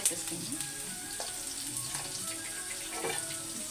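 Masala paste frying in oil in a pan for a potato masala curry, a steady close sizzle and crackle running throughout with a few faint clinks and stirring sounds, no talking.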